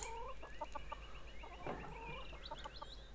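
Chickens clucking in the medieval-set video game Pentiment, quiet repeated clucks and short chirpy calls scattered over a soft ambient background, fairly faint and without talk.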